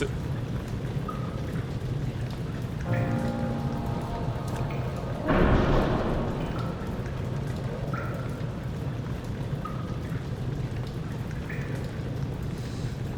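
Steady rain in Amnesia: The Dark Descent falls as an even hiss throughout, with a brief loud rumble near the middle and faint scattered tonal game sounds, and no talking.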